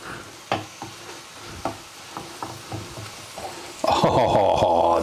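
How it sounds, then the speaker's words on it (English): Cream cheese is stirred into a hot frying pan, a spoon scraping and knocking in a few separate strokes before a louder, steady sizzle of the melting mixture takes over near the end. "Just stir it all in so it all melts in there."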